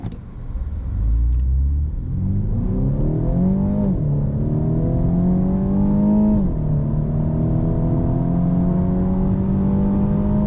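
A Mini John Cooper Works Countryman accelerates hard from a standstill. The loud engine note climbs steadily in pitch, dips briefly at two gear changes and then rises again, close and continuous throughout.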